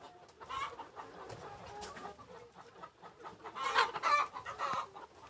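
Isa Brown hens and a rooster cluck softly on a farm, with scattered low clucks and a brief louder burst near the end, fairly distant and faint.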